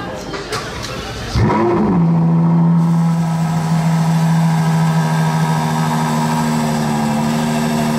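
A Ferrari 812 GTS V12 engine starts with a rising roar, then settles into a loud, steady idle close by, with a faint murmur of people nearby.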